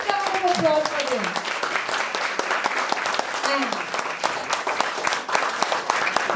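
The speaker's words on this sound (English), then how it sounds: "a huge round of applause for him" A crowd applauds after a devotional stage performance of the Govardhan leela, a sustained wash of clapping running throughout while a few voices and musical tones sound briefly underneath near the start.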